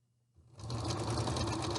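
Sewing machine stitching a quarter-inch hem on twin sheet fabric, a brief pause and then a steady fast mechanical whir that carries on close and evenly.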